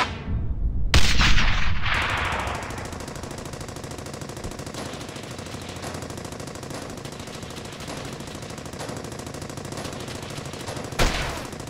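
An explosion bursts loudly in the first couple of seconds, followed by steady machine-gun and rifle fire rattling continuously through a wartime combat scene in the World War II shooter Brothers In Arms: Hell's Highway, with another sharp blast near the end.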